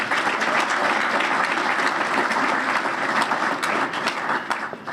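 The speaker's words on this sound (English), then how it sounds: "a big round of applause to UMass Boston" Audience applause for UMass Boston fills a St. Patrick's Day luncheon hall at a Boys & Girls Club, a dense, steady roar of many hands clapping close and loud throughout, tapering slightly at the end.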